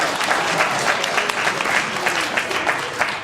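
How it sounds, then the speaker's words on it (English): Audience at a keynote talk on leading change management breaks into applause, a dense close wash of clapping that holds steady throughout without any talk over it. "look around you and give her a round of applause"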